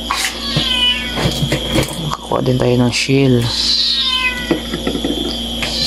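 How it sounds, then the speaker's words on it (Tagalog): A cat meows several times, loud and close, mixed in with someone talking in Filipino over steady background noise while catching crabs. "Ingay ng pusa, oh guys."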